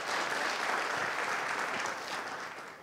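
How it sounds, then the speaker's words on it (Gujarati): A studio audience applauds to mark a television finance show's 100th episode, a dense, even wash of clapping that fades slightly toward the end, with no voices over it. "ને આપ બધા માટે એકવાર ફરીથી તાળી વગાડજો."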